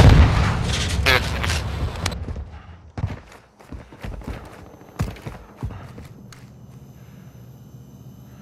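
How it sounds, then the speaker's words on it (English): A stun grenade thrown in Call of Duty Warzone: a loud blast and rumble open the moment. Sharp pops, clicks and footstep-like thuds follow, then the sound tapers off to a faint hum. "Throwing stun grenade!"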